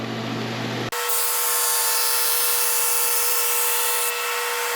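A Flatmaster drum sander runs on resawn pallet wood still showing bandsaw marks, 80 grit: a loud, steady broadband rasping roar starts abruptly after a brief quieter stretch and continues without break.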